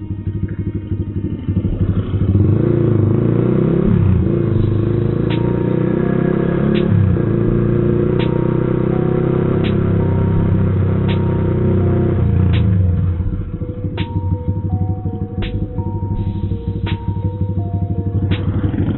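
A Kawasaki Z200X with a single shifter rides a narrow muddy road on the Antipolo loop, its engine rumbling loud and close with revs rising and falling through rev-matched shifts and brief clattering.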